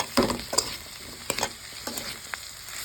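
Bitter gourd pieces frying on a low flame while being stirred in a pan, with soft sizzling under several light scraping clicks of the spoon, close and fairly quiet.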